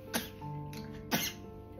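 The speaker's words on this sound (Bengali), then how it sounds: "কাশি চলে আসে জল খেতে গেলে" A young child coughs twice after sipping water, two short sharp coughs about a second apart, faint and close, with a light squeaky tone.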